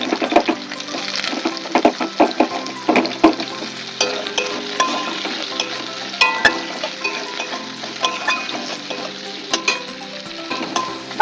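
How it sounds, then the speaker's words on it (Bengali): Potatoes sizzle and fry in leftover oil in a wok after fish has been fried, with continuous crackling and irregular stirring clatter close by, no talking. "কড়াতে যা তেল আছে হয়ে যাবে তো আমি এবার যেটা করবো আলুগুলো দিয়ে দিচ্ছি"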